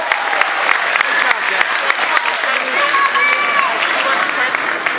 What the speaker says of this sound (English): Can we have another round of applause for the Fall Brook Songbirds?